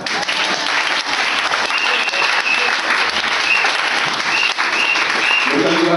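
A church congregation applauds steadily throughout, a dense sustained clapping that fills the space with no pauses.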